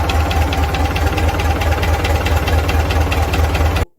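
A restored Gardner 4LW four-cylinder diesel engine runs steadily close by, with a loud, even knocking beat and deep rumble at idle, stopping abruptly near the end.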